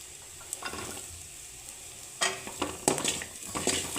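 Coconut pieces and onions sizzle in a hot pan while a spoon scrapes and stirs them in several quick, close strokes.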